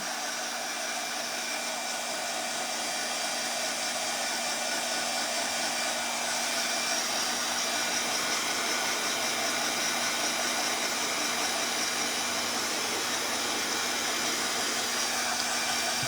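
A heat gun drying craft paint on a summer popsicle sign runs as a steady, loud blowing whoosh with a constant hum, continuous and unchanging for the whole stretch with no voices.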